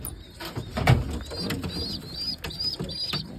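A racing pigeon hen gives soft, low cooing calls in short repeated bursts, close by, with faint rustling and a brief flutter of wings among them.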